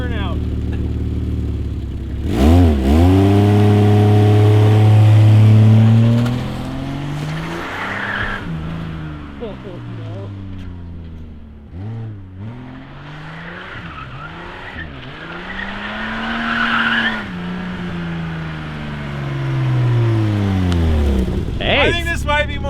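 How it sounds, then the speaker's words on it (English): An automatic BMW E30 revs hard through a burnout, with engine pitch sweeping up and down and tires squealing loudly in long bursts, while people talk over the noise. "Will an auto E do a burnout?"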